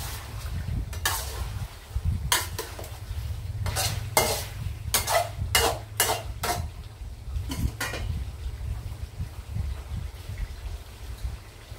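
Pork rinds fry in oil as the water cooks off, giving a steady crackling sizzle with bursts of sharp spattering pops and occasional stirring clinks, close and continuous without any voices.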